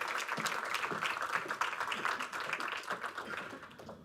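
Audience applause at an awards ceremony in Porto as three people join the host on stage, a steady dense round of clapping, fairly faint and distant, with no talk over it.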